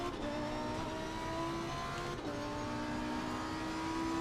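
Lamborghini ST Evo 2 race car in a racing video game at Monza, with a steady engine drone that shifts in pitch as a car passes. The sound stays at a constant moderate level with no talking.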